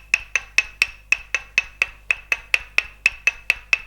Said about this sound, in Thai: ตอกลงตามแนวกล้ามเนื้อค่ะ